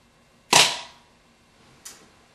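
An airsoft P22 pistol fires plastic BBs, one sharp, loud snap followed by a second, fainter pop over a second later, otherwise quiet.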